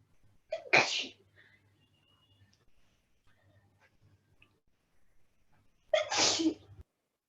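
Two sharp sneezes, one near the start and another several seconds later, separated by a near-silent stretch with faint low background hum.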